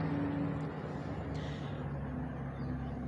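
Heavy trucks pass outside as a steady, loud low rumble of engines and road noise, with a brief hiss like an air brake, no voices over it.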